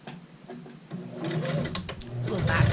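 A sewing machine stitches a child's shirt collar in short bursts of whirring that grow steadier and louder toward the end.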